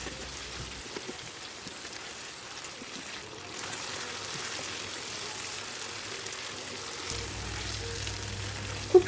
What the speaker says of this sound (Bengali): এখন পরিমাণ মতো লবণ দিয়ে চিকেনটাকে আরও বেশ কিছুক্ষণ কষিয়ে নিলাম।